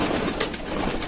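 A female pigeon in a home loft gives a brief, soft, close coo, with no voices over it.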